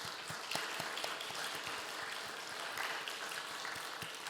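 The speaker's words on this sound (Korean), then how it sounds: "우리 격려의 박수 한번 하실까요?" A church congregation at a family worship service during Holy Week applauds the children and grandchildren present, a steady broadband patter of many hands clapping with no voices on top.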